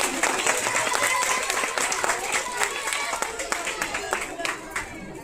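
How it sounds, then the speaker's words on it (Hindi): Children clap for the stage at a Republic Day school function outdoors, a busy patter of many hands that stays loud, then thins and turns more uneven toward the end, with a murmur of voices mixed in. "बच्चे तालियां बजाएं मंच के लिए।"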